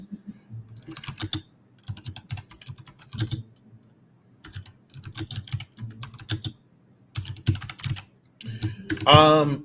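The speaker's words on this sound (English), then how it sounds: "So I'll actually go ahead and type that in here." Typing on a computer keyboard in a quiet room: several clusters of clicky keystrokes separated by short pauses, with a brief voice-like sound right at the end.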